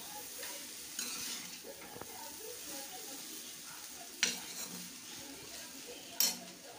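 Noodles stirred in a frying pan with a utensil, a soft continuous scraping and sizzle with a couple of sharp clinks against the pan near the end, fairly quiet and close.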